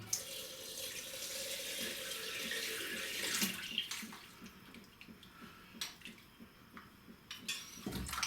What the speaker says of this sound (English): I've just basically dropped 2 half teaspoons, so 1 teaspoon of water into the bowl